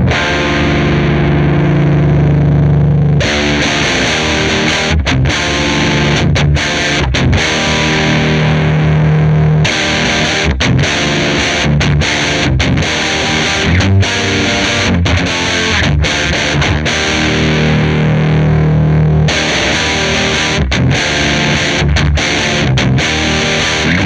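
Electric guitar through a Frost Giant Electronics Architect of Reality pedal with the presence control turned up, a loud, distorted tone with bright, airy top end, playing sustained chords broken by rhythmic staccato chugs and stops, alone with no talking.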